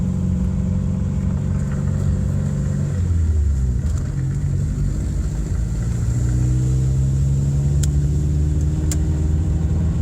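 A Subaru Impreza is driven at night with a loud, close, continuous engine rumble that rises and shifts in pitch as the car accelerates. No one talks.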